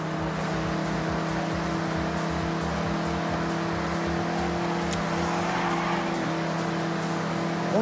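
A Mazda MX-5 in Forza Horizon races through corners with a loud, steady engine drone that holds high revs throughout, joined by a brief tire squeal partway through.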